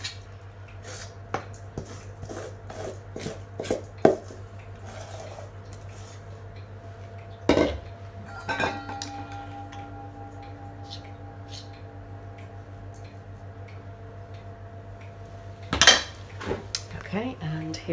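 Irish bread dough being moved into a buttered Pyrex dish, with scattered clinks and taps of utensils against glass and a few sharper knocks over a quiet kitchen hum.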